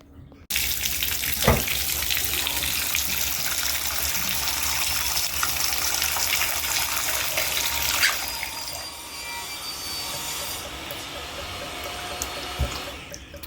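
Water gushes from a bathtub faucet into the tub during a test of a newly replaced trip-lever tub stopper, a loud steady rush that begins abruptly, then eases to a softer flow partway through.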